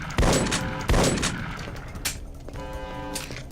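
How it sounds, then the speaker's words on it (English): Shotgun blasts in the sci-fi shooter game E.Y.E. Divine Cybermancy, two heavy, close booming shots about a second apart, followed by softer impacts and echoing game sounds. "I can shoot this shotgun all day long!"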